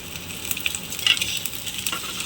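Ginger garlic paste frying with reddening onions in a pan, a moderate crackling sizzle with irregular pops and spatula scrapes heard up close, no speech.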